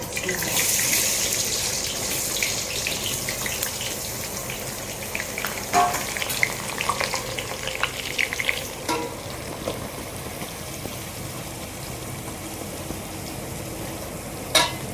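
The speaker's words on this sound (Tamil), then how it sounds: "சூடாகிடுச்சு எண்ணெய், ஒரு வெங்காயம் போட்டுக்கோங்க." Onion pieces dropped into hot oil in a pan while cooking a Tamil-style biryani, giving a steady close sizzle and hiss with scattered stirring clinks throughout.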